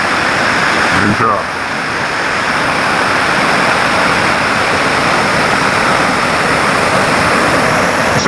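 A waterfall roars in a continuous, loud, broadband rush close by, with no break across the whole stretch.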